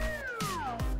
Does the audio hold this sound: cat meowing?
yes